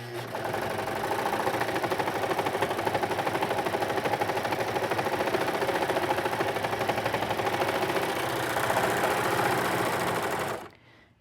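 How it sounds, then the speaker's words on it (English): A sewing machine stitches the inner leg seam of a pair of pants in a fast, even, continuous rattle, close and loud, then stops abruptly at the end. "let the machine guide the fabric through the presser foot as opposed to stretching it while you're sewing"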